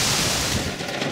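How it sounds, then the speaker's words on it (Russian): Rain and wind intensifying around a parked car, heard from inside as a loud, dense, steady roar of wind-driven rain with no gaps. "О, ой, усиливается дождик"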